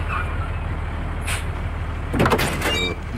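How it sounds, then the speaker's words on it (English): A truck rolls up with a low engine rumble, then a burst of air-brake hiss and creaking as it pulls to a stop. "Danny, there's a truck coming."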